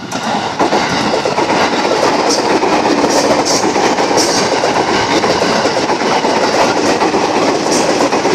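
A train passes close by in a steady, loud roar of rumbling wagons and clattering wheels, continuous throughout with faint high squeals now and then.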